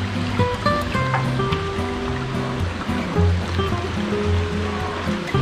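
River Kwai water flows past a riverside raft resort in a steady, close rushing and burbling, with occasional tonal knocks and splashes over the continuous current.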